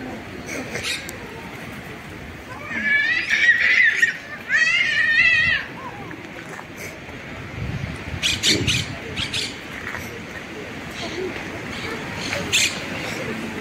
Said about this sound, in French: Et il y a des oiseaux aussi.